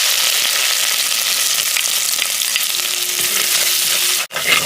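Crushed garlic and ginger fry in hot oil, a loud, steady, close sizzle that cuts off sharply near the end before briefly resuming, with no talking.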